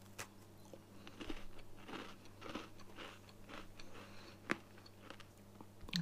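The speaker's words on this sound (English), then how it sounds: "The crispiness of the biscuit is actually really fresh. It's got a crunch." Biting and crunching into a fruit biscuit from a British 12-hour special forces ration pack, with several close, crisp crunches and chewing sounds over a low steady hum, one sharp bite standing out near the end.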